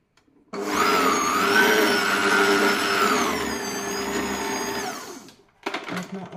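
An electric mixer whirs steadily and loudly through cookie dough with vanilla extract for about five seconds, then stops abruptly, followed by a brief burst of clatter.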